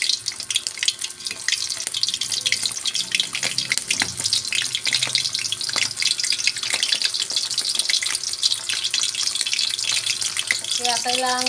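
Sapsap fish frying in hot cooking oil, a steady dense crackling sizzle that runs loud and continuous throughout, with a brief clatter near the end.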